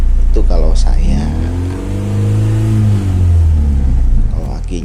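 Engine of a KIA Timor car revved hard in a long rising and falling sweep, loud and close, holding steady before settling back toward idle.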